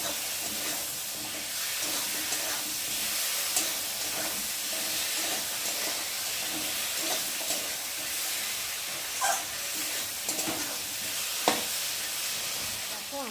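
Spice paste of cumin and ginger, potatoes and tomato sizzle steadily in hot oil while being stirred, with scraping strokes and brief pops over a continuous frying hiss, close and moderately loud.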